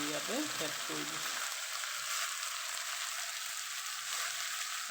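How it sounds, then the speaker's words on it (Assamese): Vegetables and potato being stirred in a frying pan, a steady broadband sizzle running throughout, with a brief utensil scrape and a short voice near the start. "চব্জিটো মই এতিয়া লাৰি আছোঁ"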